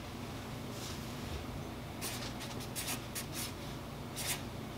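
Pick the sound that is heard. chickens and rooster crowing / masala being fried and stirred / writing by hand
writing by hand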